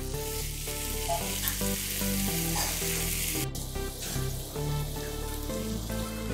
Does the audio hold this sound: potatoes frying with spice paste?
yes